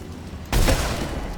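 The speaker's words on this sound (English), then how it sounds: "AA guns ahead." A single burst of anti-aircraft gunfire booms close and loud in the video game Mass Effect 3, a sharp onset followed by a lingering rumble; no voices.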